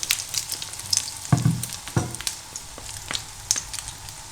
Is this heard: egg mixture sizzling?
yes